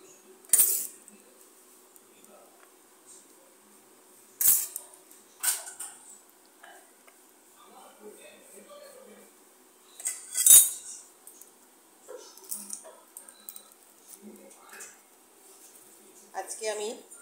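Dinner plates being set out with hot luchi and pumpkin-chickpea potato curry, giving sharp ceramic and cutlery clinks at scattered intervals, fairly close, with quieter handling between.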